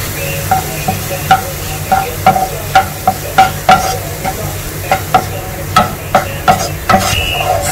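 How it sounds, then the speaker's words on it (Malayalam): Finely chopped onion and ginger with salt sauté for a prawn roast, with a steady sizzle under rhythmic spatula scrapes and taps against the pan, close and loud. "വഴറ്റിയെടുക്കാം."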